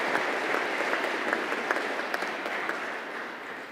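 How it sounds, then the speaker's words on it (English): Audience applause at a ministerial summit during GEO Week 2023: steady, dense clapping from a large crowd that holds at an even level for several seconds and eases slightly toward the end. "let's give them another round of applause"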